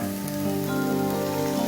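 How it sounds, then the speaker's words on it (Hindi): Water poured into a hot pan while cooking dum karela with spinach and walnuts, giving a steady loud sizzle and hiss with a bubbling tonal whine that builds and holds, no voices. "अब हम डालेंगे पानी"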